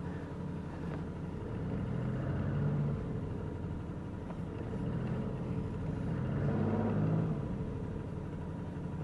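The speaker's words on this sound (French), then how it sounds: "on lève le levier de vitesse et on le passe sur la marche arrière." A 1971 Citroën SM with its Maserati engine idles nearby while backing up, a low steady rumble that swells gently twice with no voices over it.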